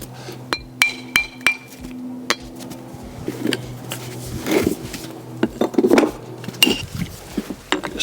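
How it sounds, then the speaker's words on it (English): A hand hammer strikes and faces a block of natural stone for a stone pier, giving sharp, scattered ringing clinks and knocks at irregular intervals, close by, with scraping and handling between blows. "you can just shape it with your hammer"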